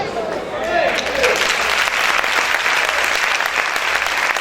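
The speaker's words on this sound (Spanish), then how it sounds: "Dale ese fuerte aplauso al Señor" A church congregation bursts into loud, sustained applause for the Lord during a sermon, dense clapping filling the room with crowd noise and voices mixed in throughout.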